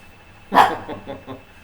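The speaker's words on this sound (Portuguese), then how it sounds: "Ó a Pipo latindo" A dog barks once loudly, then gives a few softer yips and whimpers in quick succession, close by in a quiet room.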